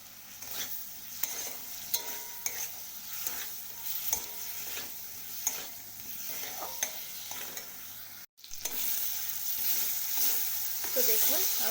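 Ripe hog plums (amra) fry in a pan with a soft steady sizzle, broken by occasional scraping stirs and light spatula taps, and grow louder and fuller toward the end.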